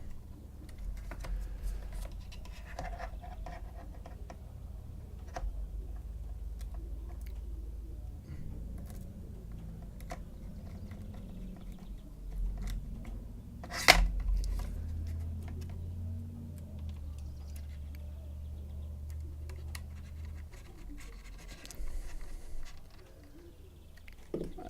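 Screws are driven back into a laptop by hand, making faint, sporadic clicks, ticks and small metallic rattles over a low background hum, with one sharp knock partway through.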